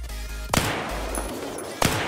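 Two sharp gunshots from a modded gun in Unturned, spaced a little over a second apart, loud and close with a short ringing tail and no talk.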